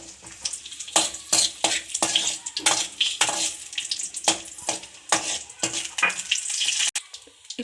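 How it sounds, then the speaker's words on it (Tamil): Cashews and raisins frying in ghee for rava ladoo, with loud, close sizzling bursts and rhythmic stirring strokes against the pan, coming in quick irregular pulses. "இப்போ முந்திரியும் திராட்சையும் ஃப்ரை பண்ணி எடுத்துடலாம்."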